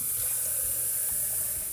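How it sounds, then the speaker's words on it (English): Water runs steadily from a kitchen tap in New York, a constant hiss of flow into a sink heard up close and alone. "if you let the water run for about 30 seconds or so"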